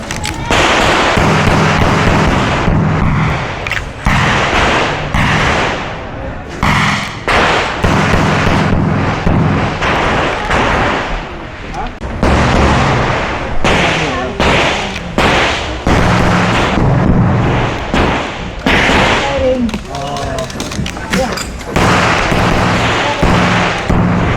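Sharp, loud gunshots ring out one after another in uneven bursts from a .40 caliber competition pistol at a shooting match, each crack followed by a short echo, with no talking.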